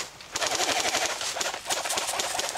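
An airsoft gas gun fires rapid full-auto bursts, a loud close stream of sharp cracks with a short break in the middle before the burst resumes.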